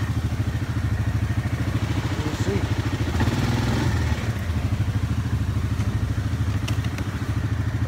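Engine of a 2018 Yamaha ATV (Grizzly 700 SE or Kodiak 450 EPS) running steadily in low gear and four-wheel drive through snow, a continuous close rumble with some clatter and thumps throughout.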